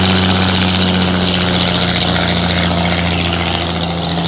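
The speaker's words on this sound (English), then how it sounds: "We keep seeing planes flying overhead" A propeller airplane passes overhead above a wooded forest, giving a loud, steady droning engine hum that stays constant throughout without any voices.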